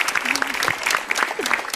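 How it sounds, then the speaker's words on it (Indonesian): Audience applause for a volunteer during an Indonesian stand-up comedy show on TV, brief steady clapping with some voices and cheers mixed in. "Tepuk tangan dong buat Mbak Widi ya, Mbak Widi."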